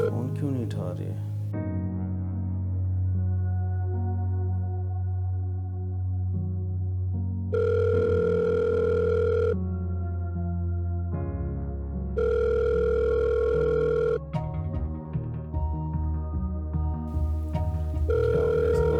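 Telephone ringtone with repeated electronic ring bursts, sounding twice in the middle of a tense dramatic scene over a steady low music bed, the calls going unanswered.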